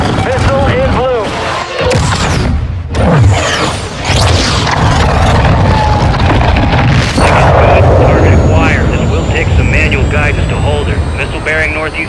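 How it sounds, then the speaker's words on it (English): A missile launch in Call of Duty: Modern Warfare II: a loud, sustained jet-like roar with deep booms continues for about twelve seconds, with radio-style voices talking over it. "Missile is ready for immediate delivery. Stand by for launch."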